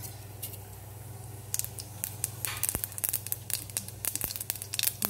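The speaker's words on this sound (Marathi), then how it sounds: "मोहरी तडतडली आहे" Mustard seeds spluttering in hot oil in a kadai, starting as a faint sizzle and building into irregular sharp pops and crackles over a steady low hum.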